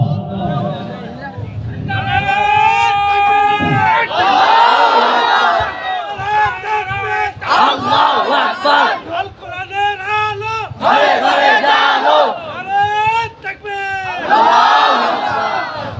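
A large rally crowd shouts a slogan in loud, ragged unison, with repeated call-and-response bursts rising and falling against a lead voice and a constant roar of people.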